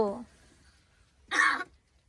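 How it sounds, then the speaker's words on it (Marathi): A single harsh cough rings out close up, following a brief snippet of voice and a moment of quiet. "खोकला झालाय जास्त."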